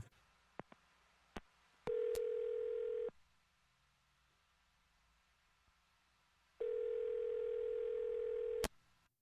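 Telephone line tones while dialing a number: a few sharp clicks, then a steady tone that drops out, a quiet pause, and a second long steady tone ending with a click.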